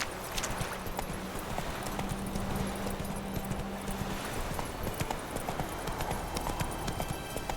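Roach the horse gallops in The Witcher 3, rapid rhythmic hoofbeats pounding steadily and close, with a faint tonal hum beneath during the first half.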